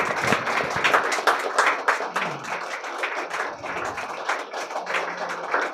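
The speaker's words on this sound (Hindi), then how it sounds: "once again clap for sir." Sustained applause from the audience at a book launch, with many hands clapping together in a lively continuous patter at moderate loudness.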